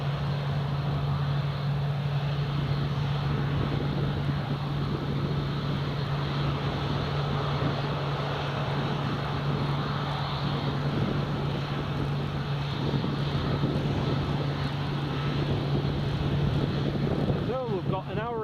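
Turboprop aircraft departing at Newcastle Airport in crosswind conditions, a steady propeller drone with a low sustained hum, moderately loud and continuous, with voices chatting nearby.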